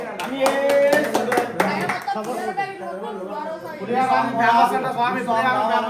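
An audience at a guru swami's devotional talk breaks into a short, dense burst of hand clapping that lasts about two seconds, after which a voice continues speaking.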